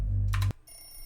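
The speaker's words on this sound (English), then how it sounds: "That's our alarm clock ringing right through" An alarm clock rings in the PC game Nilevale Neighbourhood, a loud electronic bell-like tone that cuts off abruptly after half a second, followed by a faint high whine.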